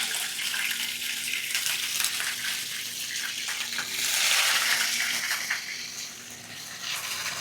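Rohu fish pieces fry in hot mustard oil over medium heat, giving a steady, close, hissing sizzle that swells for a moment midway, then settles back.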